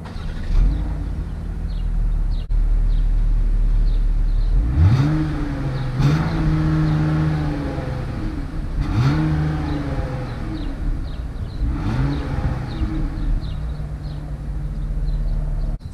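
Chrysler Pacifica minivan with a 3.6-liter Pentastar V6 engine, idling steadily and then blipped through several short revs that rise and settle back, heard close up without talk.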